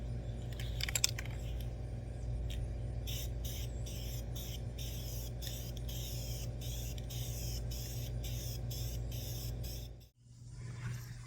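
A spray can lays primer onto a small block oil pan in a series of short, evenly spaced hissing bursts, close and crisp over a low steady background hum, ending with a brief silence.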